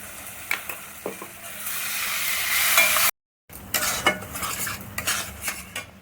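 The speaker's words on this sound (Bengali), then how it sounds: "এবার এই মশলাটা এর মধ্যে দিয়ে দেবো" Spices and fried tomato being stirred in a pan for restaurant-style mushroom masala, with a steady sizzle and repeated scraping and clinks of a spoon, briefly cut to silence midway before the stirring resumes.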